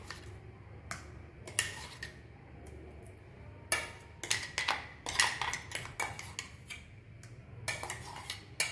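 A spoon scrapes and taps against a pan and bowl while hot chutney is served out, giving sharp metallic clinks in uneven clusters over a low background hum.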